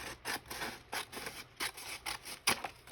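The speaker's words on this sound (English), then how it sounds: "So we'll just go ahead and trim it up." Scissors trim paper for a Halloween journal in a close, quiet series of about eight quick rhythmic snips, each a crisp slicing rasp.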